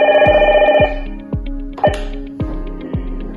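An Akuvox IP phone intercom rings in an office, a loud, close warbling tone that breaks off and gives way to a series of sharp, evenly spaced clicks or beeps.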